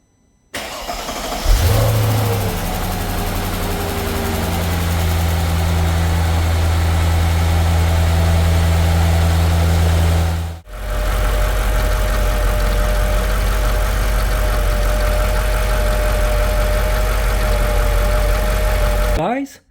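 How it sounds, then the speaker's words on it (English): A Mercedes SL500 engine that previously would not run cranks and catches, then settles into a steady, close idle. Near the midpoint the sound briefly cuts out, then the idle resumes at a slightly higher level. "let's go ahead and try to start the engine"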